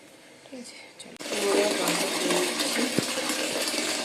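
Water running into a bucket at home, a steady broadband rush that starts abruptly after about a second and continues loudly to the end, with a clunk near the third second and a voice speaking briefly at the start.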